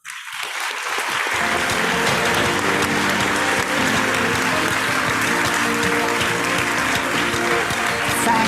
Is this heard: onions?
no